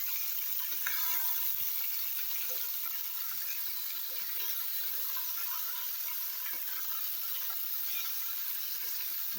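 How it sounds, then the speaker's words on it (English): Okra soup frying in oil and being stirred, a constant soft sizzle with faint scraping clicks throughout, no talking. "I'll go ahead and give it a stir."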